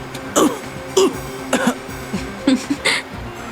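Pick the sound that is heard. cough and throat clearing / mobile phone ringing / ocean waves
cough and throat clearing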